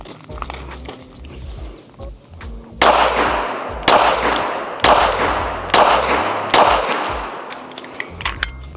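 A Ruger LCP Max pistol fires 95 grain rounds at five yards: five sharp, loud shots spaced about a second apart, each with a ringing tail, and no voices.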